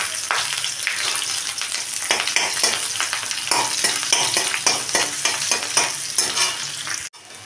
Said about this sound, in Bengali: এবারে আমি কড়াইয়ের মধ্যে পেঁয়াজ, রসুন, কাঁচা লঙ্কাটা দিয়ে দিলাম।